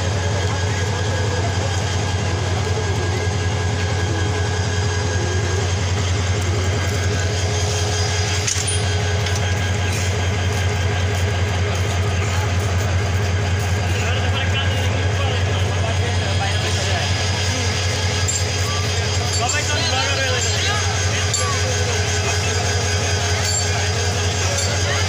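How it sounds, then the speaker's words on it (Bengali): The Kishoreganj Express pulls into Bhairab railway junction with a loud, steady rumble of wheels and carriages that holds throughout, with brief clanks along the way. "কিশোরগঞ্জ এক্সপ্রেস ট্রেনটি ভৈরব রেলওয়ে জংশনে প্রবেশ করলো"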